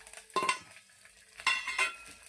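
Mustard seeds and garlic hit hot oil in a dry-heated pressure cooker, making two short bursts of crackling sizzle with a quieter hiss between them, close and fairly soft.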